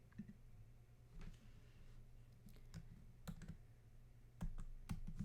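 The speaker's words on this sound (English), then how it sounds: "You type in the person's Henrico email address, just the beginning part of it" An email address being typed on a computer keyboard: scattered light key clicks in short irregular bursts over a steady low hum, quiet and close, with no talking.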